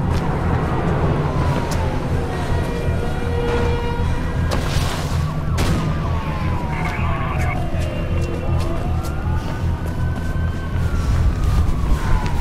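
Police squad car sirens wail and sweep up and down in the Mirror's Edge game, rising and falling over a dense rumble of city traffic and game noise, with a loud boom midway; the sirens stay steady and fairly prominent throughout.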